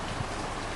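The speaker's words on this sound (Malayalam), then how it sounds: "നല്ല മഴ." Rain in the bus-driving game Bus Simulator Indonesia (BUSSID), a brief, steady hiss of falling rain, even and fairly faint, with no voices.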